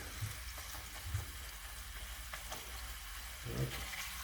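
A burger patty being pressed onto a hot griddle at a street food stand, with a steady close sizzle broken by a few soft scrapes and thumps as the spatula pushes down.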